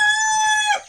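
A chicken on a farm gives a short, loud crowing call that ends in a brief cluck, close by and alone.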